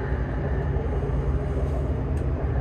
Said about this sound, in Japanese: 特急列車の旅スタートです。